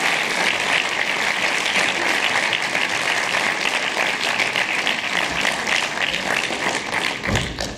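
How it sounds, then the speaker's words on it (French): An audience applauds warmly at a film festival closing ceremony, a dense, sustained wall of clapping that stays loud for several seconds before tapering off. "Applaudissez-les bien fort"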